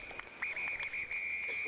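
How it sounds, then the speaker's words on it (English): A referee's final whistle sounds at a rugby match between the Cornish Pirates and Hartpury, a shrill whistle in several short blasts followed by a long sustained one over faint crowd noise. "which sees the final whistle blow"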